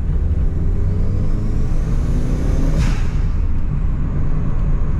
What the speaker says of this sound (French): Là, je vais faire une petite accélération